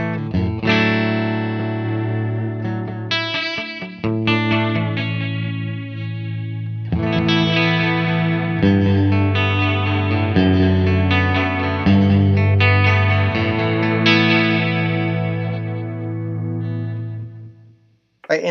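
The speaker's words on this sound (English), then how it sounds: "it's sort of like a chorus effect just on the echo parts" An electric guitar plays melodic phrases through a delay pedal whose echoes carry a chorus-like wobbling modulation, giving a lush, spacious, continuous wash for nearly twenty seconds, loud and close, without speech.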